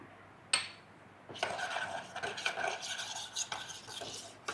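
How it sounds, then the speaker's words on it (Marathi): A spicy chutney paste with salt, tomato sauce and lemon juice is stirred in a kettle: one sharp knock, then continuous close scraping and sloshing strokes against the metal. "आपल्याला हे कंटिन्यू हलवत राहायचं कारण की केटलला खाली हे चिटकून बसू नये यासाठी."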